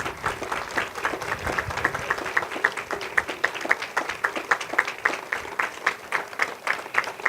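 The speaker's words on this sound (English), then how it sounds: "let's hear a round of applause" A crowd claps steadily for Special Olympics athletes at a groundbreaking for a new training center, with quick, even claps running on at moderate distance and no talk over them.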